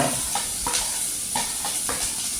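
Chopped onion, ginger and capsicum sizzle loudly in hot oil, with a spatula scraping and stirring in a quick, uneven rhythm close by.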